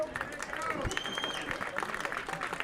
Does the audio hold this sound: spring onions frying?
no